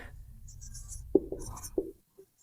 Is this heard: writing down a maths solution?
yes